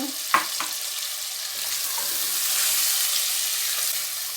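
Half a kilo of potatoes frying in a spice masala for aloo gajar sabzi: a loud, continuous close sizzle with a couple of brief clinks near the start.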